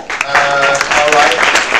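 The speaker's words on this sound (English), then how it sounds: "A round of applause." Audience clapping at an awards winners' presentation, a brief burst of steady applause from a crowd with faint voices mixed in, fairly loud and close.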